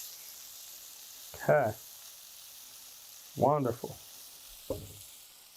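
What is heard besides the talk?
garlic sizzling in a pan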